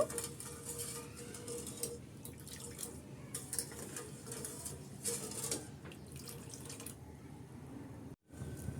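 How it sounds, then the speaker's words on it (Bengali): Two cups of milk with half a cup of sugar coming to a boil in a pot on a stove: faint, steady bubbling and soft patter continue throughout, quiet and close. "এখানে দুধ বলক আসতে শুরু করেছে"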